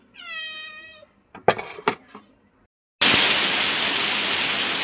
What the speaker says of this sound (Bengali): এই যে দুপুর টাইম এত বৃষ্টি নামছে, অনেক বৃষ্টি হইতেছে।